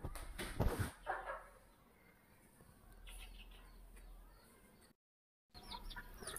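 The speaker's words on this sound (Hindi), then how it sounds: "आओ चले मुर्गे को देखें" Chickens cluck around a weakened rooster, with a few louder close clucks at the start, then quieter scattered calls and a brief silent gap before they resume.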